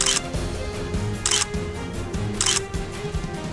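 Camera shutter clicks and flash bursts from The Sims 4 pop in three short bright clusters, spaced about a second apart over a low steady game backdrop, with no voices.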